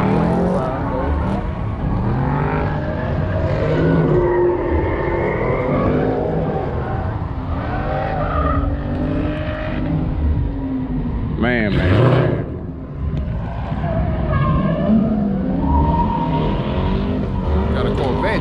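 Drift cars at Memphis International Raceway during a drifting and drag racing music festival, engines revving and tires squealing in sweeping skids, mixed with loud music and crowd noise and voices talking over it.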